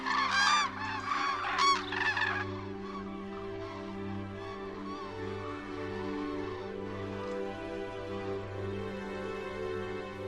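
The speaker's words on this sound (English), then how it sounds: "Hordes of thousands of cranes fly south over the Pyrenees every year to feed on" A flock of migrating cranes calling in flight over the Pyrenees, a burst of loud honking cries at the start that thins to scattered distant calls over a low steady drone.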